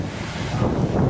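Roaring waterfall about 200 meters high beside a rainy-season campsite at Curug Cileat, a dense, steady rushing wash that fills the clip loudly and without pause.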